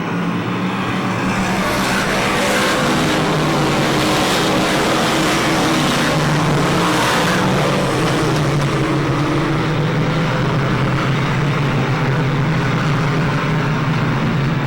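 Dirt modified race cars at a dirt speedway roar away at the green flag, a dense, loud wall of engine noise that swells and sustains throughout, with no talk.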